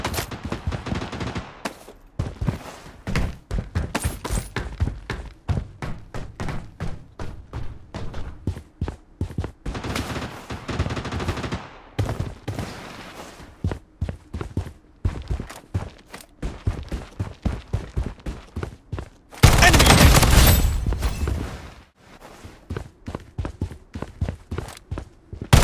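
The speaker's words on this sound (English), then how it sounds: "Taking fire!" Steady gunfire fills a match of the shooter game Project Bloodstrike, with rapid repeated shots and bursts running throughout, mixed with footsteps and a loud, sustained blast of noise near the end.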